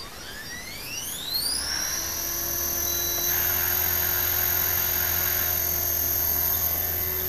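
A Tarot 450 electric RC helicopter with Ino-Lab cyclic servos spools up from rest, its whine rising steeply over the first two seconds, then holding a steady, loud rotor hum and tonal buzz in hover with no talking.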